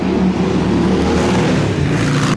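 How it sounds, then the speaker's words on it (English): Loud, continuous traffic roar of motorbikes and cars driving past on the Monaco Formula One street circuit, a dense engine rumble with no pauses. "People riding their loud motorbikes and cars as they go around little parks."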